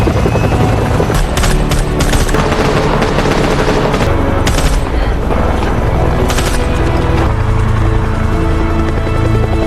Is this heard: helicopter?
yes